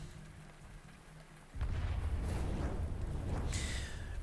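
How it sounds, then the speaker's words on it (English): An explosion sound effect from the video game Arknights hits suddenly after a quiet stretch, turning into a sustained, heavy rumbling roar that keeps going to the end. "With a deafening boom, the sound of an explosion suddenly tore through the air from not too far away."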